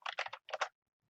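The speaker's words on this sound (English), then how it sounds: "Then search for the tutorial by typing in Phoenix College Plagiarism." Quick bursts of keystrokes on a computer keyboard as a search is typed, two short clusters of clicking close by, then silence.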